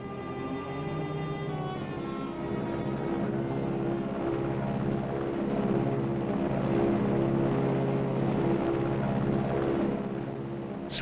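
A plane's engine drones in a continuous low, throbbing hum with a steady tone, holding at an even loudness throughout without any voices.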